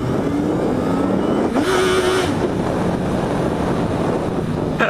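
A Yamaha XJ6 motorcycle engine revs hard while riding, its tone rising to a brief high peak before dropping back, all beneath steady, loud wind buffeting across the microphone.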